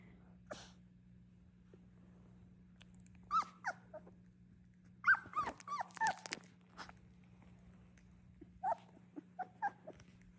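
Doodle puppies whimpering and growling: faint, scattered high whines, snuffles and small growls in short bursts over a steady low electrical hum, with quiet gaps between them.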